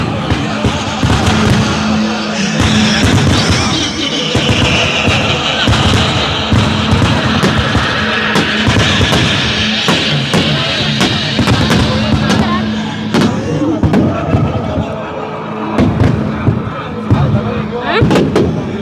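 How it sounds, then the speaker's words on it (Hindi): At the Kota Dussehra fair in 2025, fireworks crack and boom repeatedly and loudly while the Ravan effigy burns, and a dense crowd roars underneath with voices throughout. "रावण का पुतला एक तरफ तो जलता हुआ नज़र आ रहा है, दूसरी तरफ नज़र आ रही है आतिशबाजी।"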